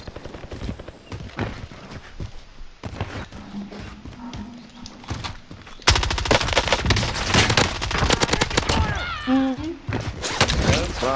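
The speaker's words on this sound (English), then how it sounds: "another dude shooting back there in the distance" Gunfire in the video game Warzone, rapid bursts of automatic fire, sparse and distant at first, then dense and loud in the second half, with a voice speaking at times.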